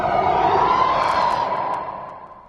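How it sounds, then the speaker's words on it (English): A reversed wind riser effect drenched in reverb, a breathy whooshing swell with a sustained tonal hum that thins and fades away over a couple of seconds, a few faint high blips near the middle. "It's like a reversed wind riser. And I put reverb on this."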